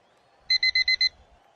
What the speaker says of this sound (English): timer is done.